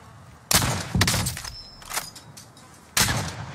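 Loud, close gunshots in a battle royale game, a quick cluster of sharp bursts followed by another shot after a short pause, with a faint ringing tone between.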